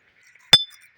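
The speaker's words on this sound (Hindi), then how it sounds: "ये कांच की बोतल इनने लगा रखी है।" Glass bottles hung as a scarer in a mustard crop field give a single short, bright clink. The rest of the moment is nearly silent.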